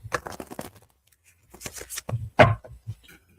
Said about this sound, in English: Giving us a good shuffle here